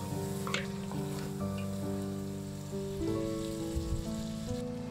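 Ginger, chili and tomato paste sizzle and fry in a pan for a mutton curry, with a steady crackle and faint tonal hum underneath.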